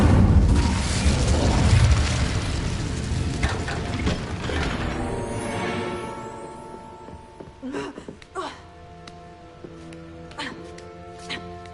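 A fire spell cast in Hogwarts Legacy, a loud whooshing roar of flames that fades over several seconds into game ambience with small clicks and tones, with a voice speaking over the start.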